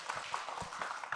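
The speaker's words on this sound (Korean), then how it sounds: "박수 크게 보내주세요." Audience applause filling a hall, a dense and steady wash of clapping that continues without a break for the whole moment.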